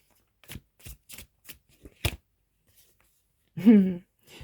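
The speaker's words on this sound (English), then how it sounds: "I'll pick your tarot now. and see what we get from that" Tarot cards are shuffled in a run of sharp, close riffling snaps at an uneven rhythm, followed by a brief voice.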